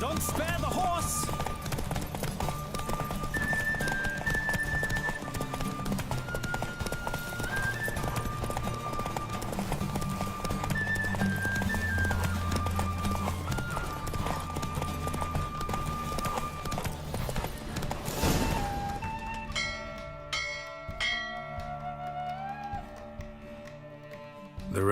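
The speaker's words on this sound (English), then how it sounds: "Don't spare the horse!" Rapid hoofbeats of a horse galloping in a race in The Witcher 3, rolling steadily under game music and ambience before fading toward the end.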